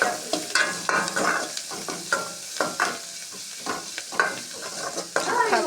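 Leafy greens tempered in hot oil sizzle and hiss as they are stirred, with repeated scraping strokes and soft clatter in an uneven rhythm, close and moderately loud with no talk.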